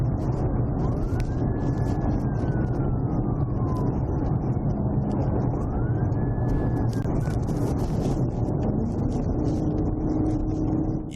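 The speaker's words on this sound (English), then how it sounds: "Also be advised, I've got my siren back." Police car siren during a high-speed pursuit, two rising and falling wails heard faintly under loud, constant road and engine roar from inside the moving vehicle.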